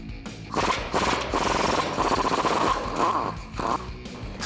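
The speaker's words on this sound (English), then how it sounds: "I'm going to use a 19mm socket in my impact wrench to remove the hardware that's holding on our U-bolts." An impact wrench fitted with a 19mm socket hammers loose the hardware on a truck's U-bolts, a loud, sustained rattling burst that runs for several seconds with brief pauses, close up and without talk.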